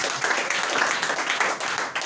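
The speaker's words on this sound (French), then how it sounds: "sous vos acclamations" An audience in a church service claps steadily for a church member, a dense, even patter of applause that continues throughout.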